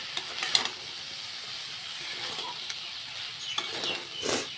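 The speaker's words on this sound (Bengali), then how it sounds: "এবারে ভালো মতো নাড়িয়ে নেব" Spice paste loosened with a little water is stirred in a pot for Bengali murighonto, giving soft intermittent scraping and gentle sizzling close by, with a few brief spoon knocks and no talking.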